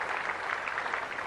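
A cricket crowd applauds and cheers England's 100 partnership at a Test match in Kandy, a steady broad wash of distant clapping with no voices close by.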